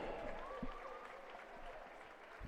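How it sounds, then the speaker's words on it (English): Faint, distant crowd applause fills a basketball fieldhouse during a halftime intermission at a college doubleheader, a steady wash of clapping with indistinct voices mixed in. "how about one more round of applause"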